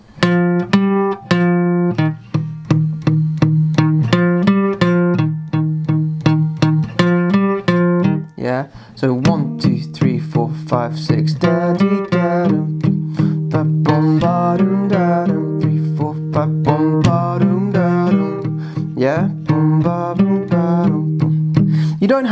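A plucked acoustic guitar plays a bright melody over steady low notes, single picked tones ringing out one after another in an even rhythm.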